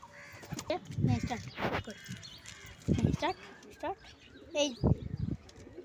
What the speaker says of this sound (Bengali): এই যে এক জোড়া পায়রা আছে